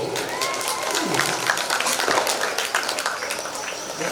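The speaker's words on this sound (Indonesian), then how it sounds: "Tepuk tanganlah dulu." Guests at a wedding reception clap in a lively, sustained round of applause, with scattered voices and a tonal background sound running faintly through the crowd noise.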